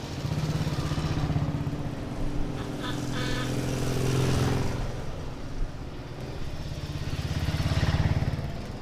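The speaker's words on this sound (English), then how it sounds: "The bikes really do have that proper grumble of an old school engine." Old-school motorcycle engines grumble and rumble at a moderate distance, a low throbbing drone rising and falling as they pass, with faint voices in the background.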